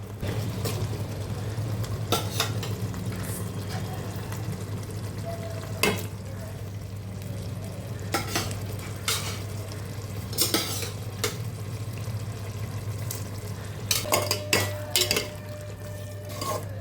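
Cooked mutton being folded gently into Kongu-style white mutton biryani in a pot, with soft spoon scrapes and scattered metallic clinks over a steady low hum and faint sizzle, no voices.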